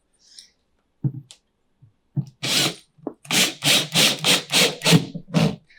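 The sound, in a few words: driving screws into a rack with a power screwdriver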